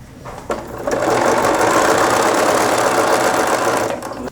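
A sewing machine runs a hem on a bias cut dress, a close, loud, steady rapid whir lasting a few seconds after a brief click at the start.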